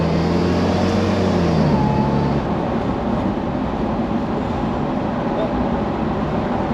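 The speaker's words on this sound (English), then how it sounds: "the sound of the exhaust you get" A Jaguar XK R convertible's engine roars under hard acceleration on a dual carriageway, its exhaust note rising then settling into a loud, steady drone mixed with road and wind rush.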